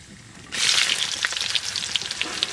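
Whole onions hit hot mustard oil with whole cumin, garam masala and bay leaf in a village kitchen, starting a loud, sudden sizzle that keeps crackling and popping steadily close by.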